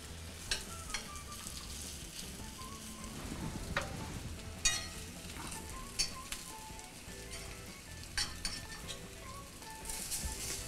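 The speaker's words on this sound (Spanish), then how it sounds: "Bueno, voy a voltear el tofu. Que no se nos vaya a quemar." Tofu sizzles steadily in a frying pan as it is flipped, with a continuous crackling hiss broken by several sharp clinks and scrapes of a utensil against the pan, close up and without talk.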